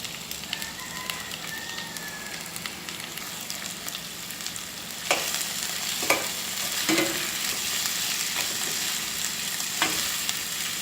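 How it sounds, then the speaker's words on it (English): Thinly sliced red onion frying in about three tablespoons of canola oil, a soft steady sizzle at low level with a few sharp clinks and stirring scrapes partway through. "I'm going to add 1 red onion that I sliced up thinly"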